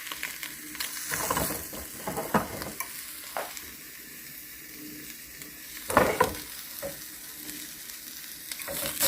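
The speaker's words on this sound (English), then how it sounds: "kind of fry it until it gets to the golden side" A slice of luncheon meat frying in a pan, giving a continuous soft sizzle broken by scraping and clinking utensil sounds, with no voices.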